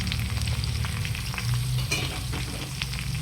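Finely chopped vegetables sautéing in a pan for a home lunch, a steady close sizzle with a few light scrapes and clinks of stirring.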